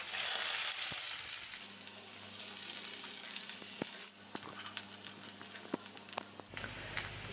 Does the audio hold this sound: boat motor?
no